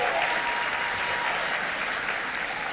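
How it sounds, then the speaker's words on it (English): Audience at an awards ceremony gives a steady round of applause, a dense, even wash of many hands clapping in a large room, sustained without a break. "Let's give Better Brothers a round of applause."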